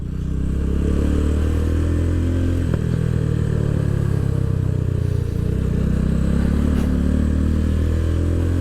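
A motorcycle accelerates out of a turn during basic rider training near a beach, its engine droning loud and steady at close range throughout, with a brief clatter partway through.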